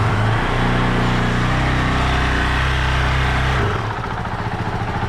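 A Honda CRF450RL engine runs at a loud, steady high idle, then the pitch drops as the revs settle lower. No one talks.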